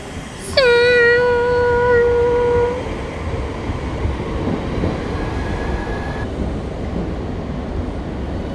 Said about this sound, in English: here comes a train into the station